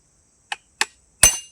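Nails hammered in by hand: three sharp, separate strikes spaced a few tenths of a second apart, each louder than the last, the final blow ringing on briefly, with no other sound around them.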